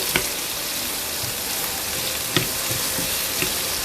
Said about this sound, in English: Let's saute the onions until nice golden brown.